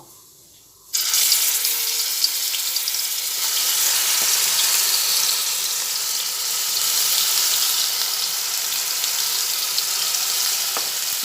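Onion paste drops into hot mustard oil for chicken ghugni, starting a sudden, loud, steady hissing sizzle after a second of near silence, continuing evenly with a few faint clicks.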